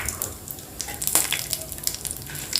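Dried chillies fry for peanut chutney in a hot pan, giving a steady, close sizzle with light crackles and faint stirring scrapes throughout.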